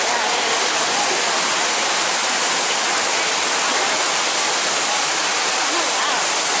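Loud, steady roar of a waterfall beside a footbridge at Epcot, a dense unbroken rush of water close by that fills the whole clip.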